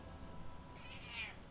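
One quiet meow from a pet cat near the end, rising briefly out of a soft, steady room hum.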